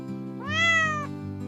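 A single cat meow, drawn out and clear, rising and falling over roughly half a second against a quiet background hum, with no speech.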